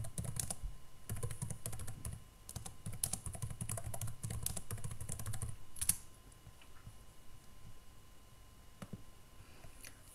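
Steady typing on a computer keyboard, a dense run of close, crisp key clicks for about six seconds, then sparser isolated taps and quiet pauses; no talking.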